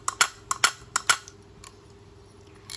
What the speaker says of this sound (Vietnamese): đây là tiếng gà của máy nha